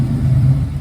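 A Ford OBS truck with a 5.0 engine idles close by with a low, steady rumble and an uneven lope, heard alone.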